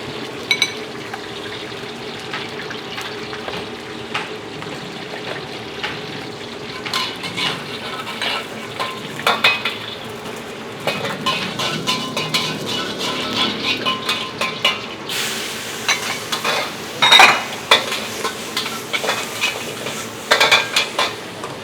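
Green mustard greens and meatballs stir-fry in a pan, a steady sizzle broken by frequent scraping and clanking of a utensil against the metal, close and fairly loud, with no talk.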